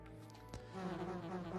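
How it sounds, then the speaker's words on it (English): Bees buzz in a Resident Evil 3 game on the Sega Saturn, a steady droning hum that swells and holds for a moment, close and fairly loud, with no one talking over it. "Not the bees! Not the bees!"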